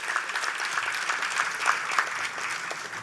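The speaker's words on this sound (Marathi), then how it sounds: "टाळ्यांचा गजर करूया" Sustained applause from an audience honouring Savitatai, a dense, steady wash of many hands clapping at moderate loudness that holds evenly throughout with a few sharper claps poking through.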